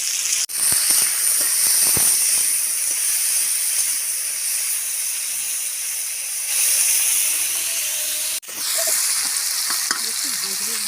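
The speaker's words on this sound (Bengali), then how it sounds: "একটু ভাজবো ভালো করে, লাল করে। আলুটা অল্প ভাজা হয়ে গেছে" Potatoes fry in a pan with turmeric and salt, making a loud, continuous close sizzle with a steamy hiss. Two sharp breaks cut into it, with stirring scrapes before the sizzle resumes.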